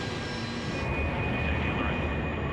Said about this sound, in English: And now, the pilots rev the engines while standing still.